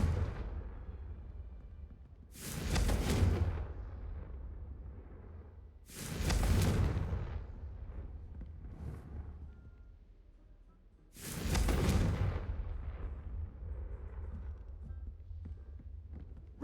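Three booming blasts from the Confringo blasting spell in a wizard video game, each a loud, sharp burst followed by a rumbling decay, spaced several seconds apart.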